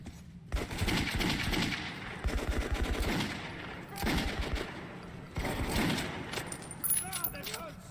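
Bursts of automatic gunfire from the shooter game Metro 2033 Redux come in rapid strings, loud and close, with short gaps between volleys, while a player talks over parts of the firing.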